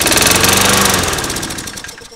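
A lawn mower engine sprayed with carburetor cleaner into the intake runs loud and rough with a dense throbbing rumble, fading steadily over two seconds as it sputters down.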